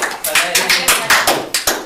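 A classroom of students claps in a quick, steady burst of sharp hand claps, loud and close, lasting just a couple of seconds.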